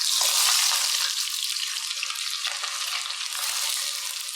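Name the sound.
sliced onions frying in hot oil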